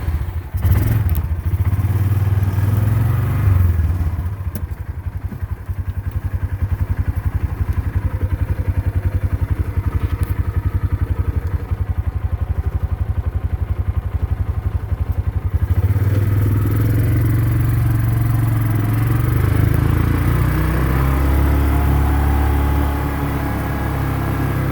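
Honda XR250 dirt bike engine droning steadily and loudly close by as it rides across an open field, with rattles and thumps from bumpy ground running through the whole ride.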